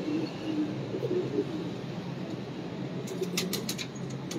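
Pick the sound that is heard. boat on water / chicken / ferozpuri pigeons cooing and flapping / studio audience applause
ferozpuri pigeons cooing and flapping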